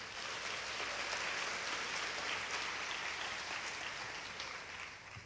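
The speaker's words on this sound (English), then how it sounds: "Give Merrill a hand for that." An audience applauds Merrill Tisch at an education leaders' meeting, a dense, steady wash of many hands clapping at once, fairly distant and lasting throughout before tapering slightly at the end.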